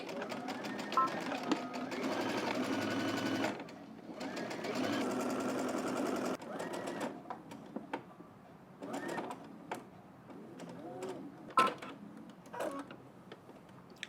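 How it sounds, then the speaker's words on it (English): A sewing machine stitches a 1/4 inch seam in rapid mechanical bursts, a long run then several shorter starts and stops, close and clear with a voice talking between runs. "We're going to stitch starting at the top all the way down using a 1/4 inch seam allowance."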